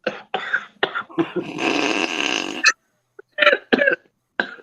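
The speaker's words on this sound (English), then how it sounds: "Control your coughs there" Several bursts of harsh coughing, close and loud, with a longer rasping stretch in the middle and short pauses between fits.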